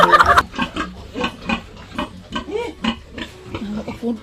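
A pig grunts in repeated short, rough bursts at close range, some grunts rising into squeals, with a brief louder noise at the start and faint background voices.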